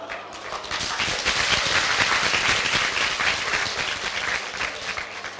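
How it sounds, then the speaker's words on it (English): Audience applause breaking out during a business talk, a dense steady burst of many hands clapping that fills the room at even loudness from start to finish, with no voices over it. "That's the first clap of my talk"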